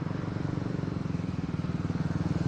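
A Benelli Leoncino 250cc motorcycle on a test ride, its engine humming in a steady, even drone with a fast pulsing beat that stays close and constant throughout.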